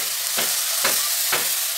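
Radish chachchari, a Bengali radish curry, sizzling in oil in a pan, a steady hiss broken by three rhythmic stirring scrapes, close and alone.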